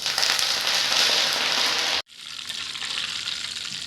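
Cleaned curry leaves hit hot oil in a pan with the stove switched off, for a long-keeping ripe red chilli pickle. A loud, dense crackling sizzle cuts out briefly, then resumes slightly softer.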